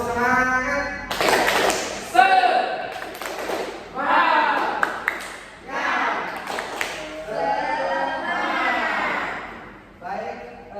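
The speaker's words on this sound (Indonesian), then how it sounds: "mungkin bisa sekali lagi untuk tepuk semangat ya" Students in a classroom clap in a rhythmic, patterned sequence while chanting together, the sharp claps coming in bursts between the voices.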